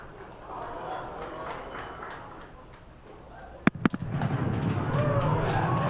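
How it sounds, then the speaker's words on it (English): Two sharp booms from the Falcon Heavy side boosters landing at Landing Zones 1 and 2 crack out in quick succession, loud and distinct, followed by swelling crowd cheers and noise over a constant murmur of broadcast talk. "There we just heard sonic booms."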